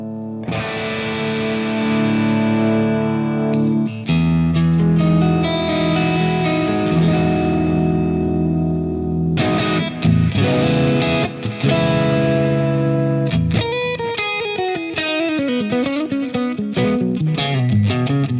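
Electric guitar played through a Neural DSP Quad Cortex on a Marshall Brit 2203 amp model, heavily distorted sustained chords and ringing notes, then a bending lead phrase near the end, loud and alone.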